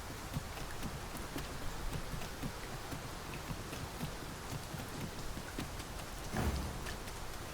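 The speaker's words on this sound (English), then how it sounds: "Tis raining most heavily" Steady heavy rain in the video game Dragon's Dogma 2, a dense, continuous patter that holds at even loudness throughout, with a brief thump near the end.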